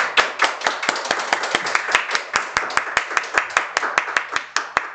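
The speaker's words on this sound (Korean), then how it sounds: "우리 일어나셔서 우리 박수로 다 우리 환영을 한번 하도록 하겠습니다." A church congregation claps in a steady rhythmic beat to welcome new members at a Sunday worship service, each sharp clap distinct and evenly spaced over about five seconds.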